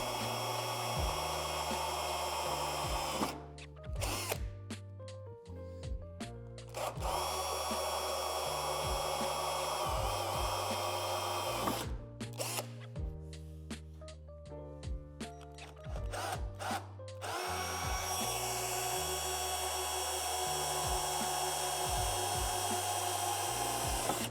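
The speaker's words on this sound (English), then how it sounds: "drill them out with the provided drill bit" A power drill whines in long bursts, stopping and restarting several times, its pitch shifting as it bites into the metal tube of a plastic outdoor storage shed, close and loud.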